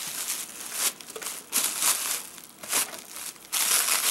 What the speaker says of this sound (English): we want to make sure that there's lots of the small bubble wrap around here so it can't bounce around further